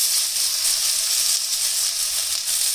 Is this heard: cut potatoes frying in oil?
yes